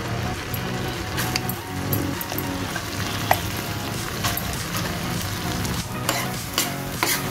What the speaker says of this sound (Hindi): सारी चीज़ों को हम चलाते हुए दो मिनट तक भूनेंगे